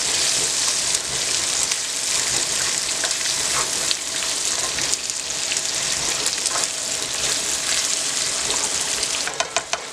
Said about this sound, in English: I put the winnies last because those will fry right away